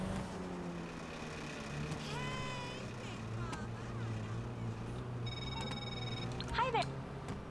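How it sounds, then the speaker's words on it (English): A phone rings in GTA 5 Online, a repeating electronic tone that comes in short bursts over a steady car engine hum, with players chatting over voice chat throughout. "Getting so many phone calls, right, man. My phone blowing up."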